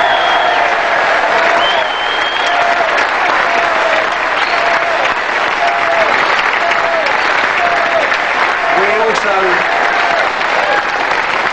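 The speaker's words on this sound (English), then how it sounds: "I'd like you to give yourself a round of applause first" Sustained loud applause from a large audience in a Cardiff arena at a pool championship, dense steady clapping throughout with voices calling out over it.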